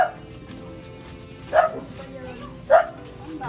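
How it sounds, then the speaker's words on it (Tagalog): Dog barks at a Filipino roadside stop, three sharp yaps spaced about a second apart over steady background murmur and chatter. "Ay, may aso!"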